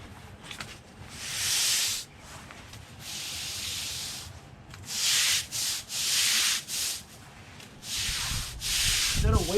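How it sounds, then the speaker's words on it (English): A dirty carburetor is agitated in a tub of solvent, making repeated bursts of close, hissing swishes and sloshes separated by short pauses, with a faint clunk near the end and no speech. "There's my carburetor. Man, it's dirty. Let me agitate that a little bit."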